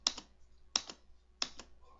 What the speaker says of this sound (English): You can always use the space bar just by clicking on the space bar